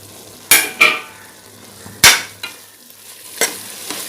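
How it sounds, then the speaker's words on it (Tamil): Mushroom biryani masala stirred and frying in a pan, with a few sharp spoon scrapes and clinks against the pan over a quiet, steady sizzle, no voices. "இப்போ இதை நல்லா கிளறி விட்டுருங்க. கிளறி அப்படியே இருக்கட்டும், நல்லா ஃப்ரை ஆகட்டும்."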